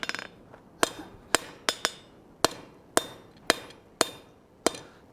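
Hammer blows ring out on an anvil while a tenon is drawn down on the third leg of a colonial-style trivet, about nine sharp metallic strikes at an uneven pace with bright ringing tails.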